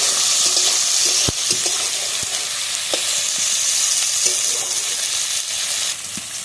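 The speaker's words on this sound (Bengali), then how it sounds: "এবার কেটে রাখা টমেটো কুচি একসাথে ভালোভাবে টমেটোটা ভেজে নেবো পেঁয়াজের দিকে, আদা রসুন পেঁয়াজের দিকে।" Chopped tomatoes fry with onion, ginger and garlic in a pan for a goat-fat ghugni, giving a loud, steady sizzle with occasional sharp clicks and scrapes from stirring, and no voices.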